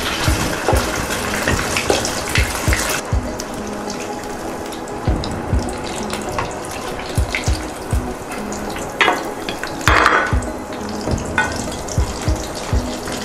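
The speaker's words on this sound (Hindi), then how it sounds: "मीडियम आंच पर इसको आप डीप फ्राई कर लें, दोनों तरफ से गोल्डन ब्राउन हो जाए तो फिर निकाल लीजिएगा।" Stuffed bread balls deep fry in oil over medium heat, a loud continuous bubbling sizzle up close with occasional clinks and stirring sounds.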